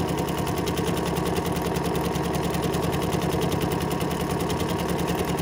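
Sewing machine running steadily on a default-setting decorative bobble stitch, a continuous close mechanical whir with a fast, even stitching rhythm throughout.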